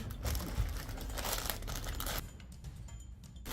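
A plastic bag is opened with loud, close crinkling and rustling for about two seconds, then quieter, sparser handling noises follow.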